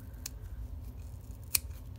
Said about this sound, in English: grab our scissors, and cut as close as possible